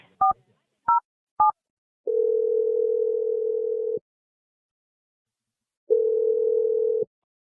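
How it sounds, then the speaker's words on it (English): A telephone handset gives three short touch-tone dial beeps, then a long steady ringback tone, a silent gap and a second identical tone, all loud and clean with no voices. "We're going to dial his number right now."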